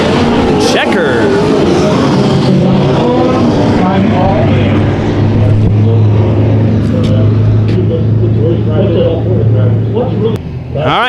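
Race cars roar steadily through a heat race at Bakersfield Speedway, a loud sustained engine drone with rising and falling pitch as cars pass, under continuous loud announcer commentary.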